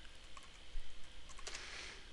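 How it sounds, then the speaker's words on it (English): A password being typed on a computer keyboard: a few quiet, quick key clicks against steady background hiss, faint and close, with no speech. "it's going to prompt me for the password, which we will type in here"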